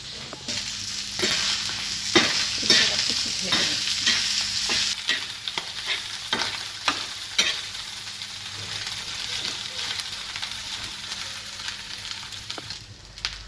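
Loitta dried fish sizzles steadily as it fries in hot oil, with frequent scrapes and clicks of a spatula stirring the pan throughout.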